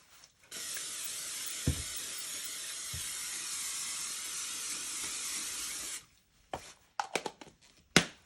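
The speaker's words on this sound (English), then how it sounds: "So I'll spray both sides" A long, steady hiss of an aerosol spray can runs for several seconds, followed by a few sharp taps and handling clatter.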